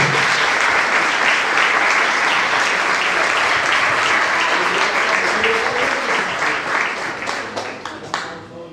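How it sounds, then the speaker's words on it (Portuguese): A church congregation at a Sunday family service breaks into loud, sustained applause that fills the room, with dense clapping that tapers into scattered claps near the end. "Aplauda o nome do Senhor Jesus."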